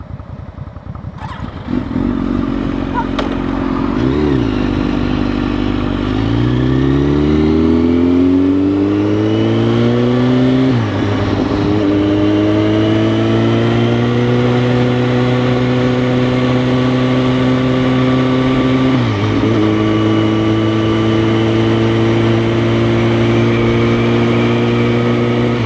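Bobber motorcycle engine idling and then revved, its steady low rumble rising in pitch through several throttle blips and settling again. The engine is loud and close, running alone with no talk.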